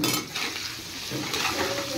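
Papaya pieces frying in a pan with turmeric and salt, giving a short close burst of sizzle with clinks and scrapes of a utensil against the pan.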